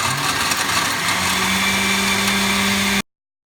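A blender whirs steadily as it purees a vegan cheese sauce made with nutritional yeast. The loud, even motor drone runs alone for about three seconds and then cuts off abruptly.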